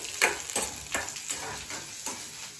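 Cumin seeds sizzling in hot oil in a home kitchen pan while being stirred, giving a steady crackling hiss with several soft scraping strokes at roughly half-second intervals, close and fairly quiet.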